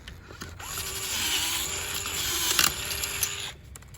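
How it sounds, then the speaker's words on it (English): A power drill whirs steadily for a few seconds, close by, drilling out a hole while fitting a spark arrestor on a Honda GX200 engine, with a grinding mechanical edge and a brief sharper burst near the end. "just hit it a tiny bit with the drill bit"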